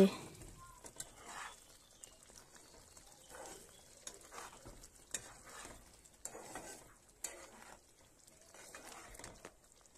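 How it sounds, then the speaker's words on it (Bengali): Mustard hilsa curry stirred gently in a pan: soft, intermittent scraping strokes come in short bursts over a quiet background, fairly close but low in level. "এখন আমি হালকা করে নেড়ে দিচ্ছি"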